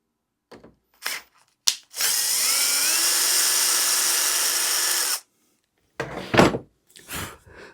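A drill drives a Confirmat screw into a board in one steady, close whirring run of about three seconds. A few short knocks and some handling noise come before and after it.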